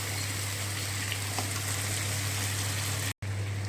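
Masala for chicken kosha sizzles steadily in a pan with a splash of water, a continuous close hiss and crackle under a constant low hum, briefly cutting out near the end.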